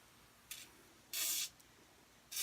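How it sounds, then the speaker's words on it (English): WD-40 sprayed onto bearings of a 1998 Woodfast wood lathe during a bearing replacement, three separate hissing aerosol bursts, the middle one longest, close and clear. "I am gonna do is liberally coat those in WD-40"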